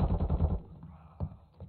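Automatic weapon fire from a multiplayer shooter video game, a dense burst of rapid shots up front that thins into a couple of scattered single bangs, close and loud.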